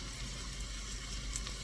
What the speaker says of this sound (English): Once it starts sizzling